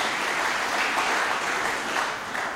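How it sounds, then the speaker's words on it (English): Audience applause at a corporate presentation, a steady wash of many hands clapping at moderate level for a couple of seconds with no voices over it. "So I think that also deserves a round of applause."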